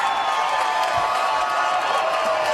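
A loud, steady arena crowd roars and cheers for MMA fighter Sara McMann at the end of the third and final round of her bout with Hitomi Akano, a dense, continuous wash of noise.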